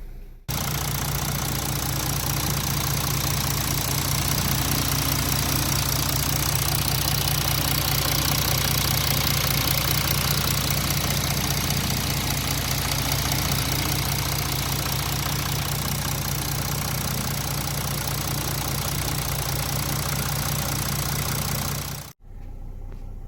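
Mercedes-Benz OM642 engine catching after a brief crank and settling into a steady, loud, close idle with an even diesel clatter that holds for over twenty seconds, then cuts off abruptly near the end.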